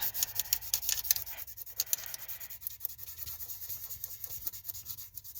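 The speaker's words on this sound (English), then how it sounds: "I'm just rubbing it with my finger" A finger rubbing glitter flakes into a line, giving a soft, steady scratchy friction that continues through the whole stretch, close up and fairly quiet with no talking.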